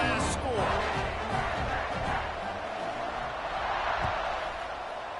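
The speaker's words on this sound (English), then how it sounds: "this crowd is buzzing after that last score" A football stadium crowd buzzes steadily after a touchdown, a dense sustained roar of many voices carrying across the full clip at a constant level, with scattered nearer shouts mixed in.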